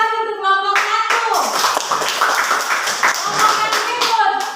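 Classroom students clapping for a group after its presentation, close, lively, uneven hand claps that start after a brief spoken phrase and carry on for a few seconds, with voices briefly heard among them.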